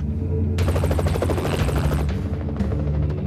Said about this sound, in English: Hay un helicóptero por aquí.